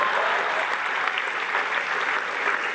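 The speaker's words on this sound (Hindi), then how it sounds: "ताली बजा है मतलब" Audience at a live comedy show applauding, a dense steady burst of clapping from a crowd that lasts about three seconds at an even level.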